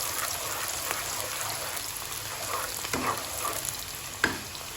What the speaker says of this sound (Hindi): प्याज डालेंगे। प्याजों को अच्छी तरह से हम भूनेंगे।